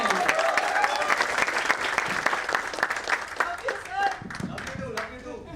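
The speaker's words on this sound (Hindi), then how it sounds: "एक बार जोरदार तालियां हो जाए।" An audience at a talk on day trading breaks into vigorous applause, a thick burst of many hands clapping that gradually tapers off, with a voice coming in faintly as it fades.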